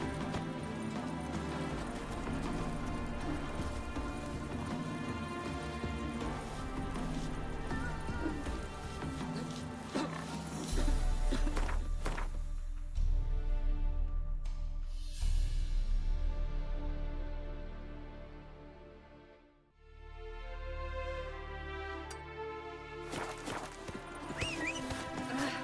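Geralt's horse Roach gallops in The Witcher 3, a steady run of hoofbeats under a dense music score, with the music dropping briefly before swelling back.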